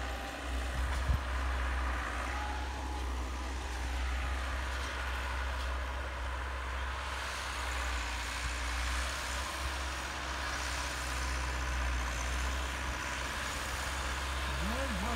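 A Massey Ferguson 385 diesel tractor ploughing four kanals with a multi-furrow plough, its engine a steady, close, continuous low drone that holds throughout without pause.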